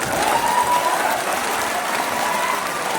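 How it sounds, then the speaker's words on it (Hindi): Sustained applause from an audience at a political speech to a Muslim gathering in Motihari, Bihar: a dense, loud crowd clapping that fills the whole stretch without pause, with no clear voice over it. "अब भैया ये ताली बजाने का कोई कारण नहीं है"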